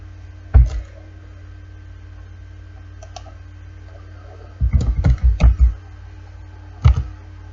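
Short bursts of computer keyboard typing while entering a name for a gift tag in embroidery digitizing software, a single tap, then a quick cluster of clicks and one more keystroke, quiet with a faint steady hum between.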